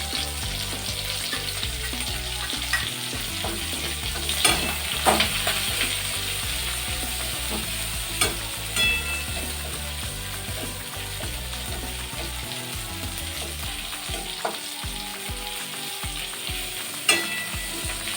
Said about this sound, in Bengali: রসুন কুচিগুলো দিয়ে একটু নাড়াচাড়া করে দিয়ে দিলাম আদা কুচি